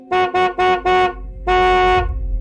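A car horn honks four short blasts in quick succession, then one longer held blast, loud and close, summoning a taxi, with no voices.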